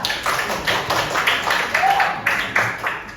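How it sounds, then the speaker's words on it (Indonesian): Students clapping for a classmate named Kira in a high school classroom, a steady run of hand claps with rhythmic bursts, fairly close, over a noisy room. "Tepuk dulu dong buat Kira"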